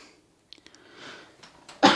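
A single harsh cough bursts out near the end, close and loud, after a quiet stretch of faint rustles and small clicks, from a woman getting over a sore throat.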